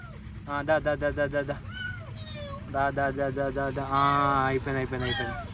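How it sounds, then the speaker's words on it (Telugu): A stray cat trapped in a well meows repeatedly in short, clear bursts, with a few longer drawn-out cries, close by against a low background hum. "ఓ పిల్లి ఆడదామా కదా అది"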